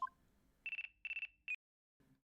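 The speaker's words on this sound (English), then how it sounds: "Looks like I have a phone call." Phone ringing in the video game Ace Attorney Dual Destinies: a short electronic ringtone with two quick bursts of warbling trills and a brief final chirp, clear and isolated against near silence.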